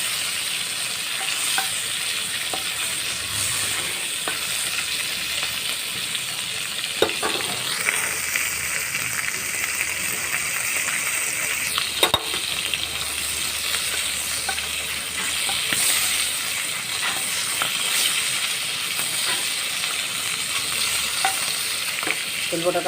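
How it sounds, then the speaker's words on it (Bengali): Fish oil patka fries in hot oil in a pan, giving a steady loud sizzle with scraping and stirring clatters as it is turned over, with no voices. "আমি তেলপটাটাকে উল্টে উল্টে ভালো করে ভেজে নিচ্ছি।"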